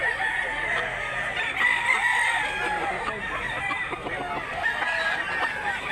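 A fighting rooster crows amid steady farmyard background noise, its call moderately loud and somewhat blended with other clucking fowl, with no talk over it.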